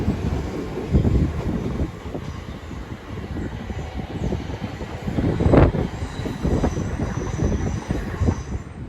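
Class 375 trains roll through Ashford International with a steady rumble of wheels and carriages, occasional metallic squeals and a sharp clank midway, all under gusty wind on the microphone.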